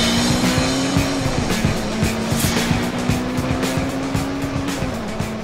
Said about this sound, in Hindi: गाड़ी चला थोड़ी फास्ट